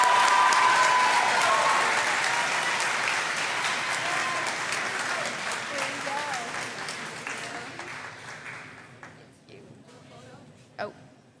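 An audience at a school awards ceremony claps in sustained applause that slowly fades away over about ten seconds, leaving a few scattered last claps.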